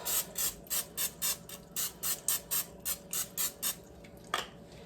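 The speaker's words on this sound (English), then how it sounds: "I am gonna go ahead and spray the top of these with the olive oil." A rapid series of short, even olive oil spray bursts, about a dozen in a steady rhythm, close and fairly quiet, followed by a single clicking hiss.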